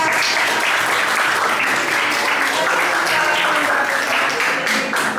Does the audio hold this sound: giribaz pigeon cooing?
no